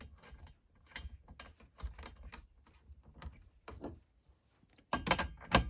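Spark plug wound by hand into a STIHL trimmer engine, a series of faint, close ratcheting clicks and small metallic turns in irregular bursts, ending with a couple of louder clicks.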